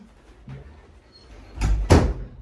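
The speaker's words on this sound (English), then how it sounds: "shut the door to my canning pantry so you can't hear them" A canning pantry door swings shut with a couple of solid thuds close by, after a quiet moment.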